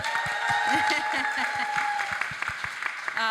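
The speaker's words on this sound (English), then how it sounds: "Let's give her a round of applause and welcome." Applause at an urban natural areas management symposium welcoming a speaker, moderately loud with scattered sharp claps, while a voice talks over the start and a faint chuckle sits in the mix.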